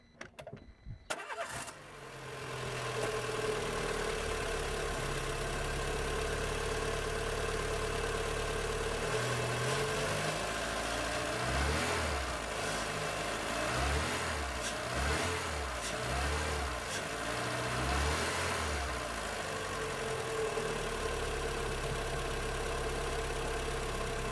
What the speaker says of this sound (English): And now for control, we start the engine.